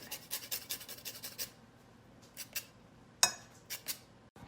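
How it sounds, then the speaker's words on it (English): Mint leaves being snipped for a margarita granita made with orange juice, tequila and lime zest, heard as a quick run of crisp cuts followed by a few separate clicks and snips, close and alone. "Cut some mint."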